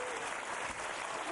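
Studio audience applause on the UK quiz show Who Wants To Be A Millionaire?, a short, steady wash of clapping heard from a distance and fairly soft, with no talking over it.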